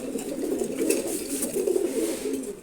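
A red male pigeon of a Giribaz racer flock coos in a steady, murmuring stream, close by and moderately loud, with no voices over it.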